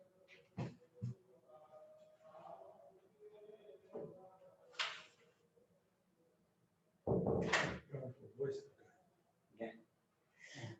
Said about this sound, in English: I just want to close the door here.